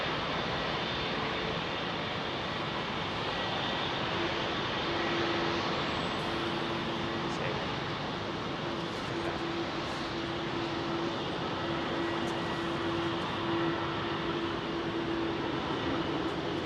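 British Airways Airbus jets taxi at London Heathrow, their engines producing a continuous broad roar with a steady low hum, distant and unchanging throughout, with no voices.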